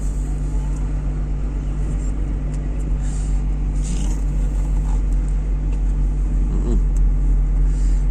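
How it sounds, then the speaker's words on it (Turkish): Tractor engine straining hard to pull a stuck Volkswagen Amarok out of a muddy road, a steady loud low rumble throughout with a brief surge near the end. "Traktör yola asılıyor arkadaşlar gördüğünüz gibi."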